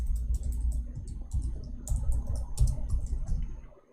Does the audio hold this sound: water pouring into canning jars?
no